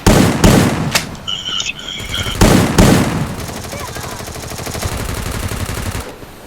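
Rapid bursts of automatic gunfire in the battle game Garena Free Fire MAX, loud and close, with sharp single shots, dense rattling volleys and a stretch of sustained fire, mixed with some voice chatter.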